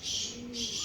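A single pigeon gives a soft, brief coo nearby on a rooftop, with faint hiss behind it.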